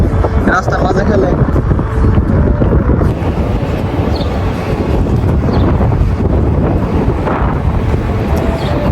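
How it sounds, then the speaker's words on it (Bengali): Strong wind buffets the microphone outdoors in a continuous low roar that rises and falls, with a person talking over it. "বাতাসটা প্রচুর মজা লাগতেছে"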